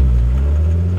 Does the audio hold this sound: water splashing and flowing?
no